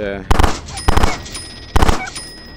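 Gunfire in the VR shooter Time Carnage VR: three loud, close bursts of rapid shots, each a quick cluster of sharp cracks, separated by brief pauses with faint game ambience between them.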